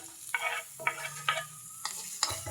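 Garlic and onion sautéing in a pan for a vegetable lumpia filling, with several bursts of stirring and scraping over a steady sizzle, fairly close and without talk.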